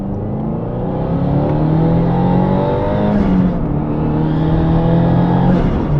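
A 2022-2024 Subaru VB WRX with a Perrin equal-length header pulls hard through first, second and third gears on boost, its loud engine note rising steadily with brief dips at each shift.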